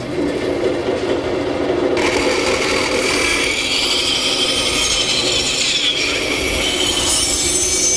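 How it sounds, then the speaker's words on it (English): A bandsaw roughing out corbels from 1-inch-thick white oak in a woodworking shop gives a loud, steady, continuous whine and rasp that runs throughout, its pitch rising partway through as the blade bites deeper into the wood. "I'll rough them out at the bandsaw."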